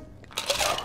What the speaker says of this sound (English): Add some ice